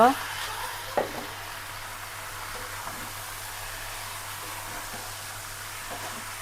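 Potatoes and marinated meat fry in a pan, giving a steady, moderately loud sizzle throughout, with a couple of brief utensil knocks near the start and no speech.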